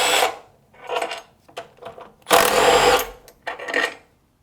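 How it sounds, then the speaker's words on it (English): A power tool, likely an impact driver, breaks loose 13mm bolts on a motorcycle engine: several short loud whirring and rattling bursts separated by pauses, close by. "And again, I'm going to use my power tool just to make it easy."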